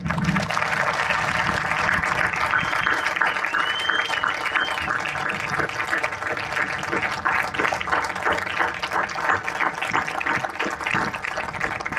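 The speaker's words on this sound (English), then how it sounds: "could you please join me in a round of applause for all of them?" An outdoor audience at a Patriot Day ceremony at Pier Plaza in Huntington Beach applauds military members, veterans and their families, giving a long, even wash of many hands clapping for twelve seconds, moderately distant and continuous.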